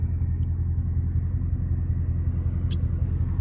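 A Buick with a burble tune idles with a deep, steady rumbling exhaust up close, and a brief faint tick partway through.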